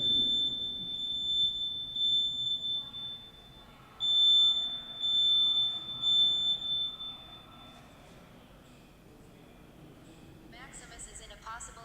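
A smoke alarm beeps in two bursts of loud, piercing high-pitched pulses with a gap between, while people talk underneath.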